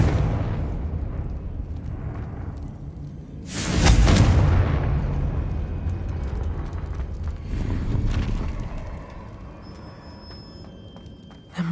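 In the Hogwarts Legacy video game a Confringo spell bursts into a sharp, loud explosion a few seconds in, then settles into a rumbling tail with a smaller thud later amid quiet game ambience.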